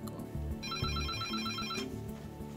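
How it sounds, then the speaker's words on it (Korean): An emergency telephone at an airport control centre rings in a rapid repeating electronic trill, clear over a low background for about a second before stopping. "풀 이머전시 상황에 그 전화가 울립니다"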